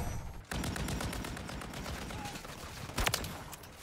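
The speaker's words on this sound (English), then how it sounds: "And now kills with the shotgun." Rapid gunfire in Modern Warfare 3, a dense stream of shots running throughout, with a sharper, louder burst near the end; no talk over it.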